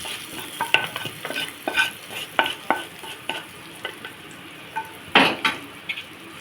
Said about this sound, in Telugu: బంద్ చేసుకొని దోసకాయ చట్నీలో పోసుకొని కలుపుకోవాలి